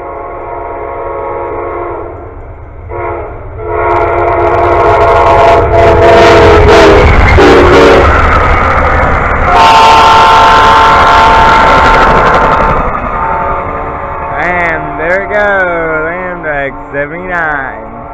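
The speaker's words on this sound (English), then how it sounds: "Here comes another train" An Amtrak passenger train, number 79, blares its horn in long harmonic blasts as heavy rail cars rumble past up close, loud and sustained, with a voice briefly heard.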